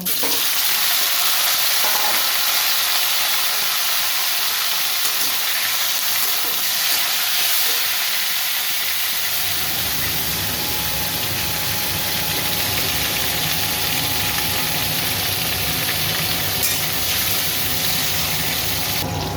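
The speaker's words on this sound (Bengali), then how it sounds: "সর্ষের তেল দিলাম পরিমাণ মতো ফুলকপিগুলো ভেজে নেব" Cauliflower frying in mustard oil, a dense continuous sizzle that swells and thickens partway through as the pieces settle, close and loud with a low rumbling undertone and no voices.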